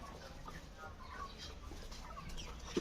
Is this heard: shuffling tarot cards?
no